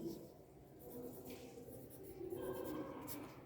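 Quiet scratching of a pen or chalk writing words during a Sanskrit lesson for seventh-graders, in soft, continuous strokes with faint room noise and no speech.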